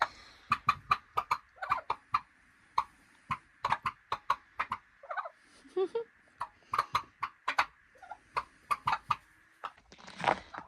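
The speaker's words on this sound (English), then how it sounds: "So we have 6 hens and Sven." A small backyard flock of six hens clucks in a rapid series of sharp, close bursts with short pauses between them, and other vocalisations are mixed in among the clucking.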